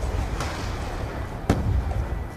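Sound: grenade explosion in a first-person shooter video game

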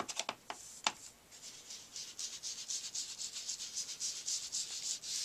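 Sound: rubbing and blending crackle paint on craft mat

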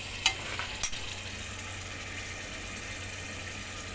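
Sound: ingredients being mixed into hot frying oil

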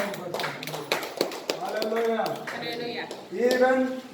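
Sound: congregation clapping hands in praise

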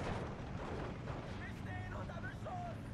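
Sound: mortar fire from video game Steel Division 2

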